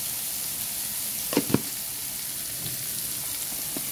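Eggs sautéing with tomato and onion in a pan give off a steady, close sizzle, broken by a couple of brief sharper crackles partway through.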